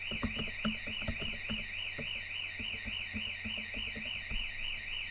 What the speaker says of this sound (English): Now I'm going to deactivate the alarm.